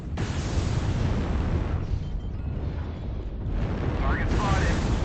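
Artillery strike explosions in the mech combat game MechWarrior Online, a dense continuous rumble of blasts and booms filling the whole stretch, with brief tonal game cues near the end.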